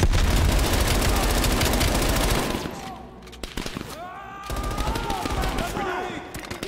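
Gunfight in Call of Duty Black Ops Cold War campaign: dense rapid gunfire and blasts for two seconds, a lull with scattered shots, then a renewed burst of firing and explosions mixed with a voice.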